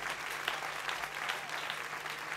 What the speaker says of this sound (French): Il faut aussi que vous applaudissiez les bénévoles